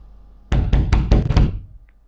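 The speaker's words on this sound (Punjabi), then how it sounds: "ਨੀ ਗਰਮੀਤ ਗਰਮੀਤ ਬਾਹਰ ਕੋਈ ਆ ਬੂਹਾ ਖੋਲ" Five sharp knocks rap on a house door in quick succession, close and loud, with no talking over them.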